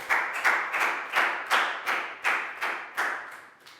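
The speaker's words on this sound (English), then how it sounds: "a big round of applause for Net, guys" A small group of pupils in a Year 4 classroom claps in a steady rhythmic pattern of distinct, evenly spaced claps, fairly close and clear with no voices over it.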